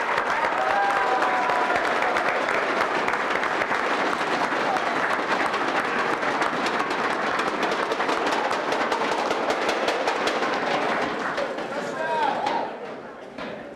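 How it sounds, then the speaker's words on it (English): An auditorium audience applauds the semifinalist entrepreneurs at the Duke Start-Up Challenge grand finale, with steady, dense clapping for about twelve seconds before it thins and tapers off at the end. "Let's give a round of applause for these amazing entrepreneurs"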